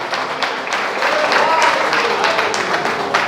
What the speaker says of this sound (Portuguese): Aplauda Jesus que o capeta está com raiva.